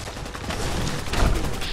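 Rocket launcher fire in the video game Fallout 4 lands as a dense barrage of crackling blasts, with a heavier, deep boom hitting about two thirds of the way through, and no talking.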